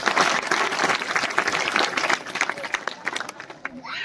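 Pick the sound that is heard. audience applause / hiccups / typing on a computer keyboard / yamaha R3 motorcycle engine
audience applause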